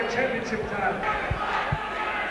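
A home crowd roars and cheers continuously at a super heavyweight kickboxing fight, a dense wash of distant voices with a few louder shouts rising out of it.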